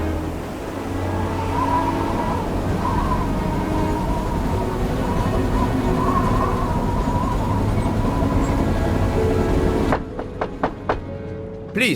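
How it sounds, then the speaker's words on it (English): The Orient Express passenger train rolls along its rails, a steady low rumble and rattle filling the carriage, broken near the end by a series of sharp rhythmic clicks and thumps. "Ah, Bouc, I see we are moving at last."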